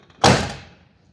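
The driver door of a 1979 Pontiac Firebird Trans Am 10th Anniversary Edition shuts with a single solid, close thud that rings out briefly and fades within half a second.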